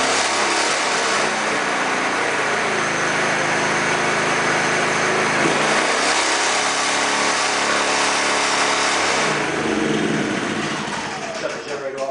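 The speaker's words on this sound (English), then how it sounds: "simply turn the key to start the generator" A Dometic generator is started with a key and then runs steadily, a loud continuous engine drone with a change in pitch partway through as it settles, then fades near the end.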